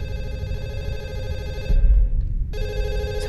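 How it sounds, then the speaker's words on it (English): A telephone rings repeatedly in the horror video game Fatal Midnight, loud and close, with steady electronic ring bursts that briefly cut off and then resume. "Phone call."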